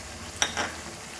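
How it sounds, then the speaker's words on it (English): Ginger garlic paste hits a hot pan for a Goan chicken curry, giving a short burst of sizzling and stirring that quickly settles back to a low background hiss. "At this point we will add our ginger garlic paste."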